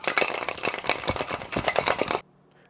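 A cocktail shaker packed with ice shaken hard, giving a dense, fast rattling clatter that runs loud and steady for about two seconds, then stops abruptly into near silence.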